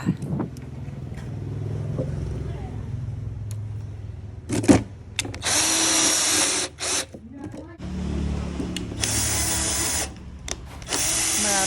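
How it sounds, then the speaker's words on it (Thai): A power drill drives self-tapping screws while a solar-cell charging kit is assembled, with bursts of loud whirring starting and stopping in quick succession; someone talks in the quieter stretches between the drill runs. "ก็ทำการเจาะด้วยหนอดเกลียวปล่อยนะคะ ลงไปเลยค่ะ"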